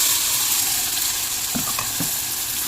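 Ground masala paste fries in hot oil for an anchovy fish curry, making a loud, continuous hiss. A couple of brief spoon scrapes stand out near the end, and no voice is heard.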